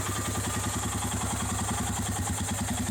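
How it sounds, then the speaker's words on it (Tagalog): Royal Enfield Himalayan single-cylinder motorcycle engine idling up close, a steady, bass-heavy thumping beat with even, regular pulses and light mechanical clatter, no voices. "So thumper, nandyan pa rin yung signature na thumping sound tulad ng naririnig natin ngayon."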